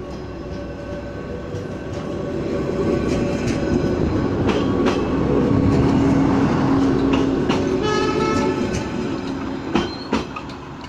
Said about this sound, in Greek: Το τρένο βέβαια πέρασε.